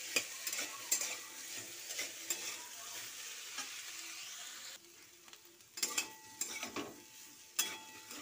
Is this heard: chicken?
no